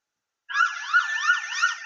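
An ambulance siren wails in a rising and falling pattern, starting abruptly after a brief silence and continuing steadily at moderate volume, during the Madrid commuter train bombing response.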